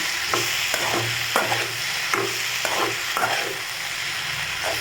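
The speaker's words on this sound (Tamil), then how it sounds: "வெண்டைக்காய் நல்லா வதக்கிக்கோங்க" Okra sautéing in a pan for a lentil pachadi gives off a steady broadband sizzle. Soft stirring scrapes recur every second or so close by, with no talk over it.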